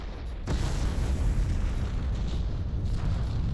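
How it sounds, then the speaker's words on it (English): A deep, rumbling explosion booms in the space combat game Freespace 2, with a sudden onset followed by a sustained low roar that holds steady for several seconds with no talk. "The explosions in the updated media package are very nice."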